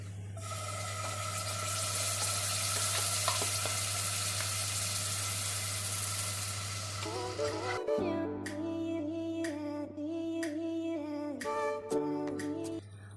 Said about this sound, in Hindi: मसाला फ्राई हो चुका है।